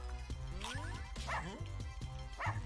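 A cartoonish dog in the video game Russian Subway Dogs barks and yips repeatedly in quick bursts over busy game music and effects.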